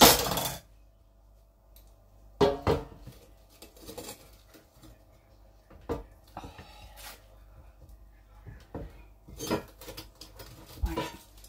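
Chicken Kiev from an air fryer being plated with garlic toast: scattered clinks and clatters of dishes and cutlery, a sharp knock near the start and several brief taps and scrapes spread across a quiet kitchen background.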